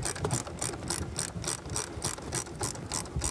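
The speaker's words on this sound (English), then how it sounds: "you have to first loosen up these two clamps that come off of this" Hose clamps being loosened on the intercooler pipe of a Ford Super Duty 7.3 Powerstroke, giving a steady, rapid ratcheting click with about a dozen evenly spaced pulses, close and alone.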